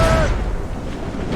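Ship cannons firing in Assassin's Creed Rogue, a loud deep boom rolling into a low rumbling roar with a shouted voice at the start, close and heavy.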